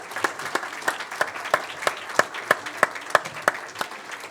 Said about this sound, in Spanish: sí, un aplauso a la mesa.